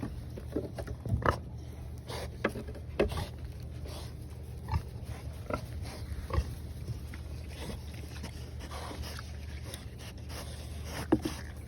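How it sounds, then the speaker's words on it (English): Farm pigs eating watermelons, with close, repeated wet crunching and chomping bites over a low steady background rumble, occasional louder snaps of rind. "there is something so satisfying about watching pigs eat watermelons."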